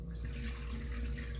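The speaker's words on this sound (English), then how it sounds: "now pour the water out" Rinse water poured out of a pot of washed rice during home cooking, a short continuous splashing trickle heard up close and soft, with no voices over it.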